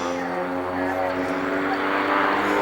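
Van's Aircraft RV-8 kit planes fly loops in formation at an airshow, a steady propeller-engine drone holding loud and continuous with a slight swell toward the end.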